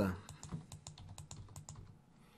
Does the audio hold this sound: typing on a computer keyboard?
yes